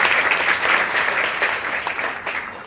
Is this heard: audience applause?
yes